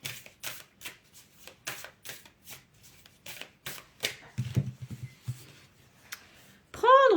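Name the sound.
drawing cards from a card deck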